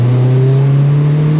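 A boosted, heavily tuned car engine is held at full throttle, giving a loud, steady droning tone whose pitch climbs slowly under load throughout the short burst.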